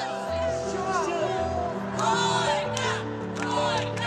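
A crowd cheers with whoops and shouted voices rising over a busy babble, loud and close, with bursts of excited yelling and some scattered clapping.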